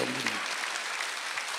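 A church congregation at a Sunday worship service bursts into loud, dense applause that fills the room, with a voice briefly audible at the start.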